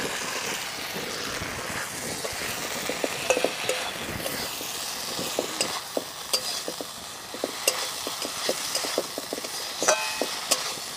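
Fried tangra fish sizzles in hot spiced oil while a utensil scrapes and stirs the pan repeatedly, with steady tapping clicks up close.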